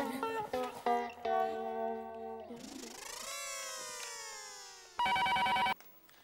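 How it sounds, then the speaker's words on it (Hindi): Tonal melodic beeps and a sliding electronic tone, then a short burst of buzzing telephone ring, clear and close with no talking. "टप्पू, जेठा को फोन लगा।"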